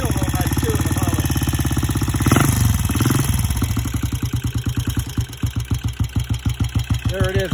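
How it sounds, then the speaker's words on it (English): A 1967 BSA Starfire motorcycle engine idles close by, starting busy and rough before settling into a steady, loping rhythm of distinct pulses, with no talking over it. "There it is, idling."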